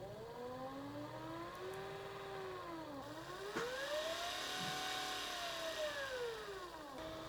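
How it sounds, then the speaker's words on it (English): An electric motor driven through a Pro-160 speed controller whines steadily, its pitch sweeping up and down smoothly as the speed is changed, dipping briefly twice, with a single sharp click partway through. "we'll check that the display wakes up and that the motor operates under the control of the speed pot"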